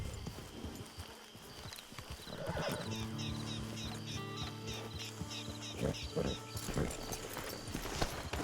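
Horse hooves clip-clop steadily in the video game Red Dead Online over a busy background with sustained musical tones, and a horse whinnies at some point.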